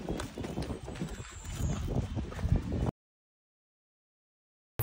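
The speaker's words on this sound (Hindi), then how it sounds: "खच्चर पे जा रहे हैं।" Hooves of a mule or horse clip-clop along the rough road to Fairy Meadows in the mountains, steady and fairly close for about three seconds, then the clip drops to silence.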